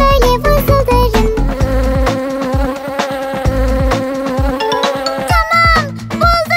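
A cartoon bee buzzes steadily over bright, busy background music, its drone running continuously through the whole stretch.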